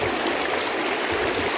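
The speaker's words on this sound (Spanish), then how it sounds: "Es que nosotros cuando miramos el riachuelo es como el río" A small stream of water flows steadily with a dense, even rushing hiss, close and continuous, with no voices.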